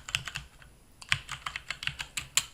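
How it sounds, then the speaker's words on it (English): Close, fairly soft keystrokes on a computer keyboard tap out a short word in an uneven burst of about a dozen clicks, with a brief pause partway through. "we'll click on the left-hand area and type in Sheldon"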